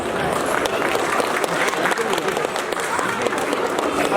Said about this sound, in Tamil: ப்ரீ ஸ்கூல் ஏ ஸ்டூடெண்ட்ஸ்க்கு நம்ம ஒரு பெரிய கைத்தட்டல் கொடுக்கலாமா?